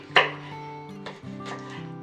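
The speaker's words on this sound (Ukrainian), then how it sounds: "Нарізаємо гострий перець" A knife chops green hot pepper on a board while plum sauce is being made, with one sharp cut followed by a few softer ones, close by, over a steady low hum.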